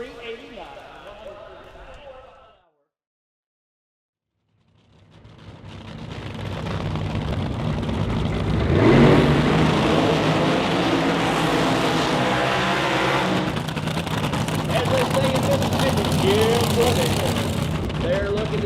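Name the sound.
supercharged nitro and methanol drag racing cars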